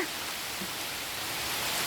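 Steady rain falls outdoors as a dense, even hiss with no breaks, constant and fairly loud throughout with nothing else standing out.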